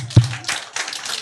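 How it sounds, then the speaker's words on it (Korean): Church congregation clapping at a mission school opening service, a short run of scattered hand claps that comes in two or three uneven bursts and is led by one sharp, loud clap. "다들 해. 박수."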